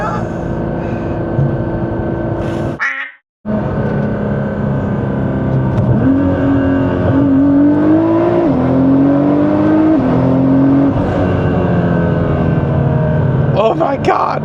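Modified Nissan GT-R engine pulling hard under acceleration, a loud, steady turbocharged roar with rising pitch through the gears and a brief cut near the start, with excited voices over it.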